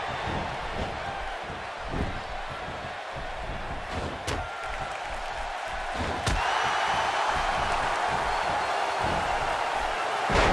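A wrestling arena crowd in the video game WWE 2K16 roars as a steady, dense wall of noise, with a couple of sharp slams cutting through and the cheering swelling louder in the second half.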